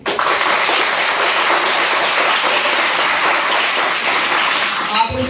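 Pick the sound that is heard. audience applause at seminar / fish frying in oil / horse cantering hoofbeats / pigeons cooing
audience applause at seminar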